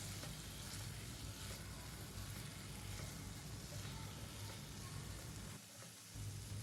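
Bombay potatoes with chopped coriander are stirred in a hot pan, a faint, steady sizzle and frying hiss with soft scraping, continuous apart from a brief dip near the end.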